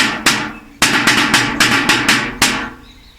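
Two metal screwdrivers used as drumsticks strike a hard surface in a samba-style rhythm, sharp close hits in a quick uneven pattern of about nine strokes, each ringing briefly.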